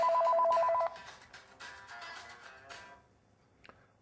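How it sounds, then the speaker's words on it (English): A home phone connected through a cellular Bluetooth gateway rings with a rapid electronic trill for about a second, then stops, leaving soft background sounds and a faint click. "home phone ringing."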